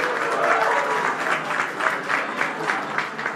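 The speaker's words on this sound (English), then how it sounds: "Can we get a round of applause for South Bronx United?" Audience at the 13th annual South Bronx United benefit gives a sustained round of applause, a dense wash of many hands clapping steadily throughout at a fairly loud, even level.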